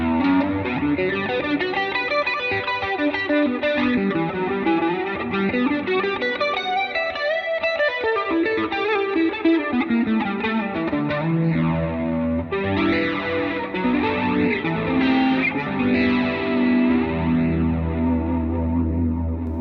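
Ibanez RG 2550 electric guitar on its neck humbucker, warm tone, strummed and picked chords with chorus-like modulation and mild drive, playing steadily and fairly loud with no talking.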